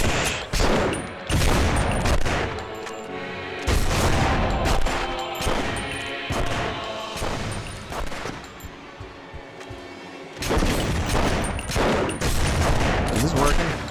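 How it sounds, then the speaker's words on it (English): Gunfire from The Punisher on PS2 rattles out in repeated loud bursts of rapid shots, with brief lulls between volleys. "Is shooting him working?"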